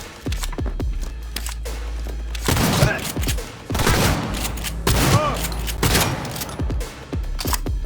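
Gunfire in the video game Cyberpunk 2077 comes as loud bursts of rapid shots and heavy booms, repeating in clusters over a low rumble, with voices talking between volleys.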